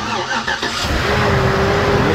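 A Chevrolet Trailblazer's 5.3L V8 with AFM delete and fresh heads, intake and exhaust manifolds cranks briefly, then catches and settles into a loud, steady idle close by.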